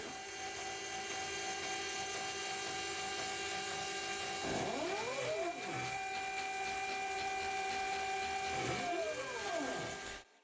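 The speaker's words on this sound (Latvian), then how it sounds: "izdrukāt rāmju skavas ar 3D printeri, izmantojot PLA plasmasas diegu" A 3D printer prints frame clamps in PLA filament, giving a steady whirring hum with rising and falling stepper-motor whines as the head moves, continuous and fairly close.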